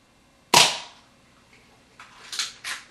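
Airsoft P22 pistol fired once: a sharp, close crack followed by a quick decay, then a few fainter clicks and snaps from the gun or target, with no talk.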